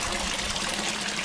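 Water trickles steadily along a stone fountain channel at the Alhambra in Granada, a close, continuous bright splashing wash with no voices.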